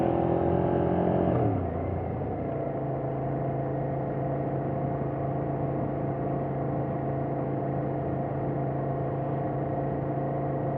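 A motorcycle engine hums steadily while riding along a snow-covered road; its pitch drops after the first second or two, then it settles into a constant close drone with no talk.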